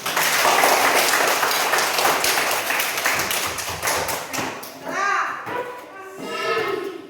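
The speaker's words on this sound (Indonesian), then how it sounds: "Oke, tepuk tangan." Schoolchildren in a classroom clap their hands together after a colour-word exercise, a dense burst of applause that thins into scattered claps and thumps, followed by children's voices chattering.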